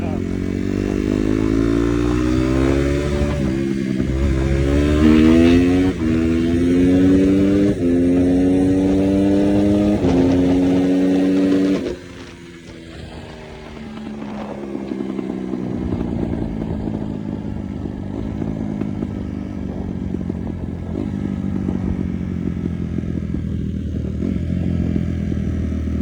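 A Honda CRF250 dirt bike engine, close and loud, revving in repeated rising pulls for about twelve seconds, then settling into a lower, steadier idle.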